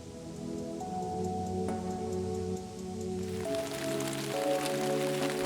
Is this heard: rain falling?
yes